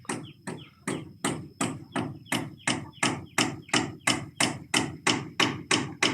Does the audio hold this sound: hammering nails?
yes